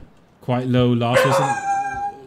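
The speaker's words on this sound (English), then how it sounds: "Sorry, that was my dog." A dog barks and yips repeatedly in the background during a PlayerUnknown's Battlegrounds first-person squads tournament stream, fairly prominent, with someone commentating over it.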